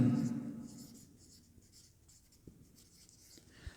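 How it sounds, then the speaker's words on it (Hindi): A hand writes an example sentence on a board during a lesson, producing soft, scratchy strokes and light taps. A voice is briefly heard at the start, and a low room hum runs underneath. "सबसे पहले मैं यहाँ पे एग्जाम्पल नंबर 1 जो है ना लिखता हूँ।"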